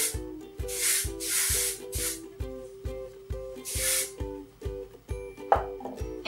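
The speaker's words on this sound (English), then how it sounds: "I'm going to spray this side of my hair." Aerosol hairspray hisses onto hair in four short bursts, close and bright, over a steady background music track with a plucked repeating melody.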